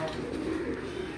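Pigeons at a Gujranwala pigeon fancier's loft give a soft, low coo, a single brief murmuring call close by with no talk over it.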